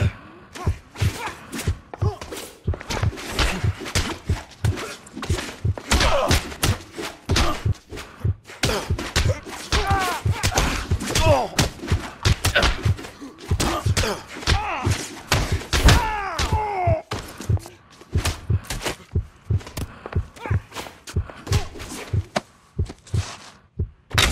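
Heavy punches land in a fistfight in L.A. Noire, a run of repeated thuds and slams at an uneven rhythm, loud and close, with game characters talking and grunting between the blows.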